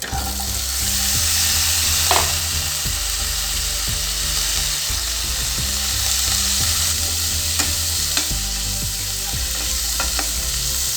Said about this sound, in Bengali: পেঁয়াজটা ভাজার সময় একটু আঁচটা বাড়িয়ে দেবো, ফুল ফ্লেমে করে দেবো কিছুক্ষণ